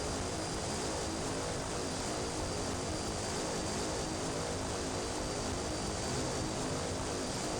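Thanda Super Cargomaster propeller aircraft in a flight simulator game departing with flaps 10, a steady loud broadband engine and propeller drone that holds constant throughout with no talk.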